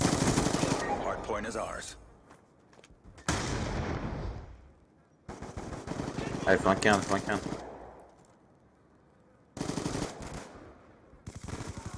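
Bursts of automatic gunfire in a multiplayer shooter video game, Hardpoint mode, come in several loud sustained volleys separated by short pauses, with players talking over the shooting.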